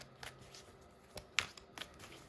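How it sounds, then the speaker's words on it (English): A tarot deck is shuffled by hand in soft, quiet bursts, a few brief riffling snaps spaced irregularly in a calm room. "I'm just going to keep shuffling."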